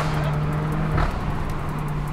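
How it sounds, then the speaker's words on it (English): A Techart-built SUV drones steadily on the road, with a short, rough exhaust burble cutting through around the upshift before the engine settles back into a constant hum. "It produces that sound when I shift up. It's nice, right? Like a semi-burble sound."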